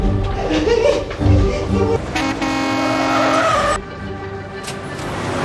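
A film street scene where a woman runs into the road and is struck by a truck: loud traffic, tyre skids and a long blaring horn burst over a busy, close mix of vehicle noise.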